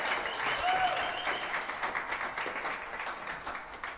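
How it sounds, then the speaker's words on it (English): An audience at a live concert breaks into steady, sustained applause for the musicians, a dense wash of clapping that slowly tapers off. "So one more time, a big round of applause."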